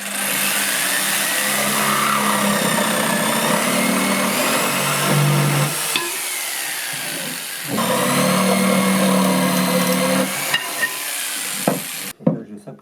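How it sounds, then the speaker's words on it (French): A jigsaw cuts 30 mm by 30 mm wooden bars to length for a rectangular wicker log basket, giving a loud, steady motor buzz with a short dip midway, then sharp knocks as it stops near the end. "Ça ne fait pas toujours une coupe très propre avec la scie sauteuse"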